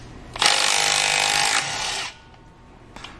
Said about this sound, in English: So this thing takes off lug nuts with about half as much effort as the Snap-on